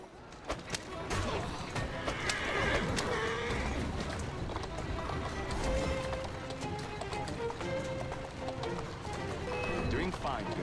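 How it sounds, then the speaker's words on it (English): Galloping hooves from a horse in Assassin's Creed Syndicate pound steadily for about ten seconds, with the occasional faint whinny, all beneath continuous speech and game sound. "Who's a good horse?"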